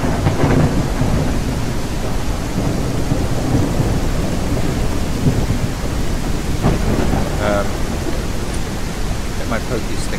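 Thunder rolls through a lightning storm in the zombie survival video game No One Survived, a loud continuous rumble with rain hiss filling the whole stretch, with sharper crackling bursts near the middle and end.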